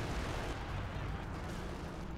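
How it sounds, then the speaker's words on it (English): Booming artillery fire in the WWII strategy game Company of Heroes 2, a dense, rumbling barrage of low blasts filling the whole moment, with a commentator's voice faintly underneath. "Sector artillery, I think?"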